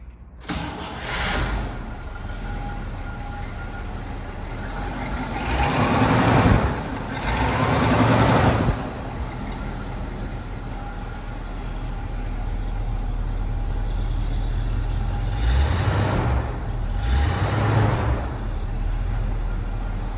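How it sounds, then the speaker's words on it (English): A 1963 Cadillac Series 62 convertible engine cranks and catches, then settles into a steady, fairly loud idle, with a few revs swelling and fading along the way. "startup video for a 1963 Cadillac Series"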